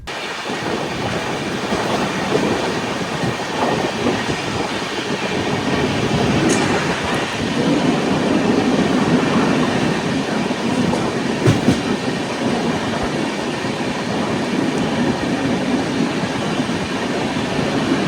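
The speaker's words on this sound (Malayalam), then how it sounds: "കുറേ നേരമായി ഈ ഒരു സ്പീഡിലാണ് വണ്ടി പോകുന്നത്." The Jamnagar–Tirunelveli Express rolls along steadily at low speed, with a continuous rumble, faint rhythmic wheel clatter on the rails and occasional squeaks.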